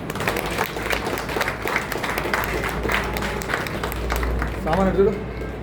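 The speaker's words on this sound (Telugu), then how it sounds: "అందరూ చప్పట్లతోటి" Audience applause greets an honoree at a Rangareddy district goldsmiths' association felicitation, a steady, fairly loud wash of clapping that holds throughout and swells slightly near the end.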